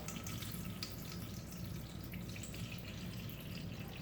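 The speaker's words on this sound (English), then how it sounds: "We're over a metal pan here, so we're just gonna pour all over." Water pours and splashes steadily over a drone onto a metal pan, a constant quiet rushing patter lasting the whole stretch.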